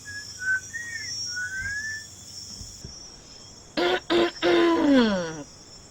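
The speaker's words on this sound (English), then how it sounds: "Did I just hear a whistle?" Whistling heard in a Nigerian epic film scene: a few short rising and falling whistled notes, then a louder three-part whistle call with a sliding final note, fairly near, with steady background hiss.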